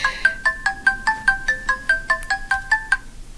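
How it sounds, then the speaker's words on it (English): A phone alarm rings out in a bright, repeating electronic melody of short tonal beeps, about a dozen evenly spaced notes over three seconds, clear and alone with no talking. "That was my alarm going off."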